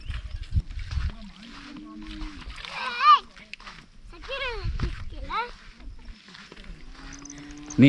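Water splashes in a few irregular bursts as someone wades across the Bhadra River, mixed with adults and children talking nearby.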